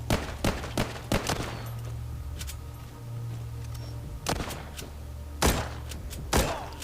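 Gunfire in the zombie shooter game Walking Zombie 2 comes as several sharp, loud shots spaced irregularly over a low, steady background hum.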